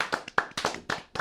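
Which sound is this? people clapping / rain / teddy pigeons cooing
people clapping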